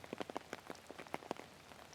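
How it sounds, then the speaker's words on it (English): Rain patters on a surface in quick, irregular drops, soft and steady with no voices over it. "Try to soak in the invigorating effect of the rain, even though it's just on camera."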